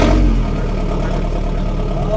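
A diesel engine, hard to start and fitted with an adjustable speed controller gain, runs at a steady idle with a low throb that stays loud and even throughout. There is no talk.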